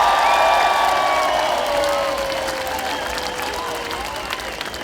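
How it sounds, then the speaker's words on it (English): Festival crowd at an opening ceremony applauding and cheering loudly, a dense continuous roar with whoops and whistles that gradually eases over several seconds. "Give yourself a big round of applause,"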